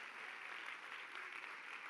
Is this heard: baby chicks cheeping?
no